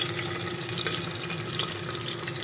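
Green chillies and tomato pieces sizzle steadily in hot oil in a pan for a soya chunks pulao, a dense continuous crackle and hiss with no talking.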